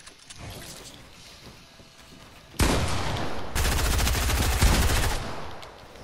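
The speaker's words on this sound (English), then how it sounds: "Shotgun." Shotgun blasts in a build-fighting shooter video game: loud, dense bursts of gunfire and impacts, a heavy roar starting midway and continuing with rapid repeated cracks before fading, no talk.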